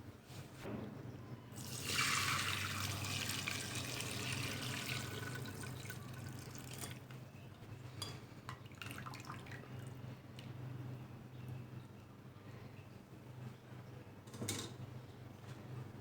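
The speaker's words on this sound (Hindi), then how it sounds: "अब एक स्ट्रेनर की मदद से चिकन सूप को छान लेंगे" Chicken soup pours through a strainer, a steady liquid splash and trickle that swells early on, then settles into softer dripping and light clinks against a kitchen background.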